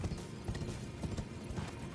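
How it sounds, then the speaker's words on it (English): Horse hooves clip-clop steadily in the video game Elden Ring, a brisk regular trot of close hoof beats over a dense ambient game background, with no voices. "The people ride their horses along here."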